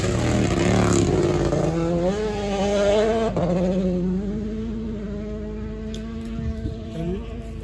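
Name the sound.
Toyota WRC rally car engine revving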